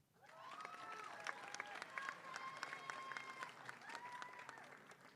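An audience applauds graduating students at a spring commencement ceremony, a sustained wash of clapping from a crowd, steady and moderately loud, with faint voices and tonal sounds mixed in.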